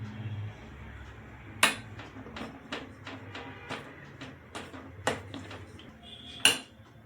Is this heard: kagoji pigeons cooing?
no